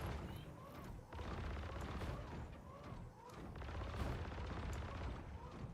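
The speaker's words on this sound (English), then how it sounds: "I'm just shooting at the ship itself." Steady, dense gunfire aimed at a ship in a shooter game, with repeated shots blending into a continuous rattle and low booms, fairly loud throughout, and faint game sounds and talk mixed in underneath.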